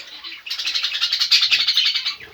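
Pet cockatiels and zebra finches chirp in a dense, continuous chorus of high, rapid twittering, close and loud, with no voices.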